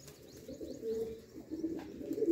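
Domestic pigeons cooing on a rooftop loft, low soft murmuring coos rising and falling steadily across the whole stretch, fairly close, with no voices.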